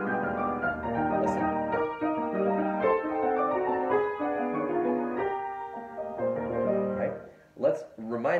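A solo piano plays a lyrical phrase from Rachmaninoff's Piano Concerto No. 2, first movement, with sustained singing notes and rising and falling dynamics, moderately quiet and close.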